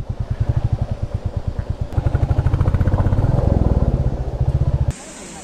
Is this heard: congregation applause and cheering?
no